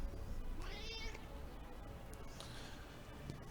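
A pet cat gives one clear meow, then a fainter second cry, over a low background hum in a quiet room.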